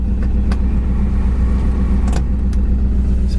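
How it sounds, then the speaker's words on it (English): Steady whirring hum from the heater fan of a 1967 Ford Mustang Fastback, running constantly and fairly loud throughout, with a low droning rumble and a few brief clicks on top. "Over here the heater fan works too."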